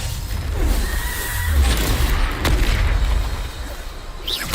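A Bombarda spell explodes in a video game, a deep rumbling boom that rolls on under a dense wash of game noise and debris, close and loud throughout.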